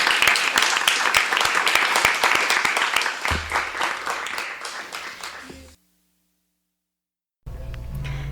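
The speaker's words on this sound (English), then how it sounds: "Let's have a round of applause for all of them." An afternoon poetry reading audience at Skylight Books claps for the guest poets in a brisk, crowded burst that gradually thins and fades out, followed by a stretch of silence and then a low hum.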